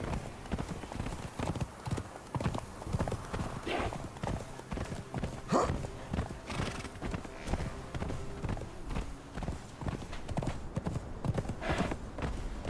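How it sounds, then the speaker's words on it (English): A white horse ridden in the video game Conan Exiles, its hooves clip-clopping in a steady rapid gait throughout, close and continuous, with faint background game ambience. "Let's get it going, White Horse."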